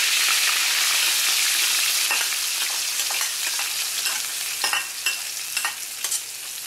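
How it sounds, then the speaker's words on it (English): Ginger and scallion mixture hits smoking-hot peanut oil in a wok, giving a loud, steady, close sizzle and crackle throughout, with scattered sharp pops and spatters toward the end. "my oil is starting to smoke. So we're going to go ahead and we're going to put our mixture in."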